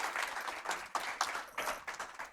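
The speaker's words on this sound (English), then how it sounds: "Let's give a applause for Momrik for his good attempts." An audience applauds a speedrunner's attempts at a live winter speedrunning marathon event, with a moderate wash of steady clapping at low level, sounding somewhat distant, and no talking over it.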